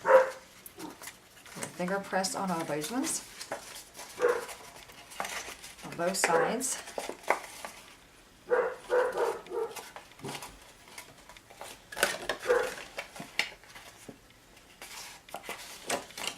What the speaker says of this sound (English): I'm sorry if you guys hear Dinah barking.